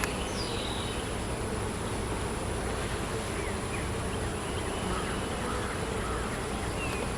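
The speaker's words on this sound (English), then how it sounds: "You got the little bees in here with their pollen, and they're coming back home" Honey bees return to their hive with pollen during a summer hive inspection, a steady close buzzing drone that fills the whole stretch without pause and with no voices.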